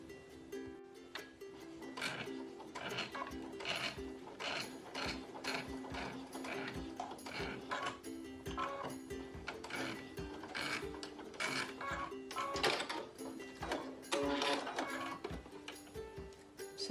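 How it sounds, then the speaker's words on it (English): Sewing machine stitching a cloth face mask, running continuously with a steady rapid mechanical chatter from near the machine, no voices over it. "I'm going to continue to stitch until I get to the end"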